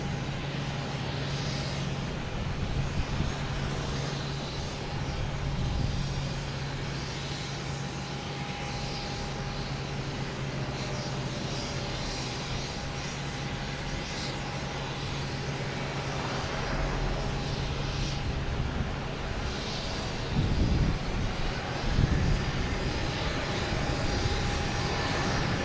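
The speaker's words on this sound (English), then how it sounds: "KLM, there we go. Amsterdam and A330" KLM Airbus A330-300 jet at Boston Logan Airport, a continuous engine roar with a steady tonal whine running through it and brief louder bursts near the end.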